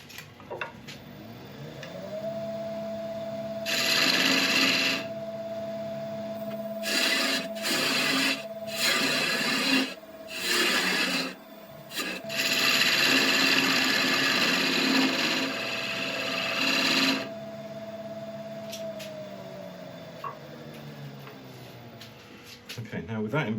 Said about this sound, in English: I'm just going to form it with the Pro Comfort dovetail tool